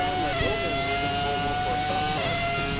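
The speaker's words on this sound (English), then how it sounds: "these cars have awesome sounding engines" F1 car engine from the F1 2017 racing game, a high continuous whine with shifting pitch over a rumbling background, steady and moderately loud, with a voice speaking over it.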